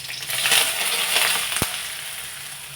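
Curry leaves dropped into hot oil already spluttering with mustard seeds, for a batata vada filling, give a steady close crackling sizzle with a sharp pop near the middle, alone without voices.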